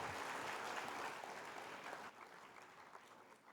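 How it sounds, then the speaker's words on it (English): Audience applause for the Vikasa team at a seminar session, a fairly faint, continuous wash of clapping that is fuller at first and then softens and thins toward the end. "we are supposed to give loud applause to all the Vikasa team"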